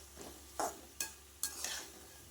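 A spoon stirs a tomato and garlic rice mixture in a pan, giving three or four distinct scraping strokes over a soft, steady sizzle, close and moderately loud, with no voices.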